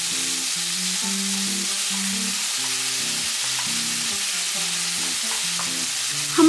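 Cherry tomatoes stir-fry in olive oil in a hot pan over high heat, giving a steady close sizzle with occasional soft knocks from stirring, continuous and without talk.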